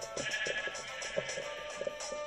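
Sheep in a video game bleat again and again in short, close calls over a steady background hum, with no speech.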